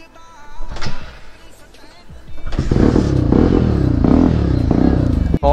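A Hero Xpulse 200 4V motorcycle with a failing battery is kicked and coaxed into starting; after a few clunks, a loud, close engine rumble holds steady while voices talk nearby.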